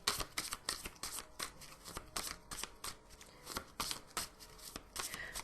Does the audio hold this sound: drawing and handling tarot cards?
yes